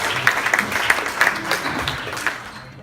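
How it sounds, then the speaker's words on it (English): Audience applause at an evening fundraising dinner for an organization, a moderate wash of clapping with a few sharper individual claps, tapering off toward the end. "Give yourself a round of applause for supporting this great organization."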